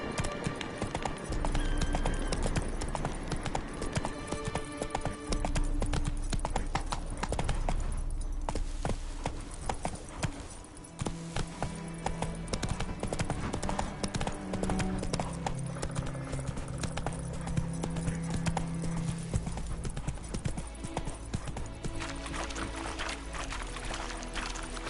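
Roach the horse gallops in Witcher 3, a rapid, continuous clip-clop of hooves that stays loud and steady throughout, with game music and ambient sound underneath.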